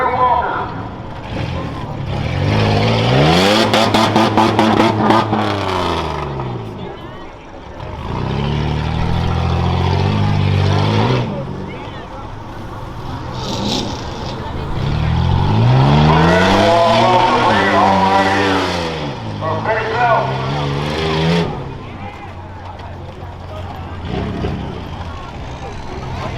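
A Chevrolet Silverado rough truck races at a fairground dirt track, its engine roaring and rising and falling through gear changes over about half a minute, loud and sustained, with an announcer talking over it.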